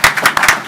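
A short burst of close, quick hand claps at a city council meeting gives about seven sharp claps in under a second.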